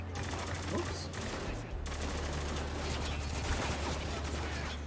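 Sustained, rapid automatic gunfire rattles loudly and densely in the war shooter Spec Ops: The Line, with brief voices and explosions mixed in.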